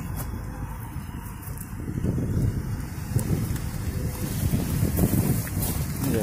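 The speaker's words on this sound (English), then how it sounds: "putting up with that blustery wind again" Blustery wind buffets the microphone near a carbon dioxide tanker, a rumbling low roar that rises and swells after the first couple of seconds and holds on strongly.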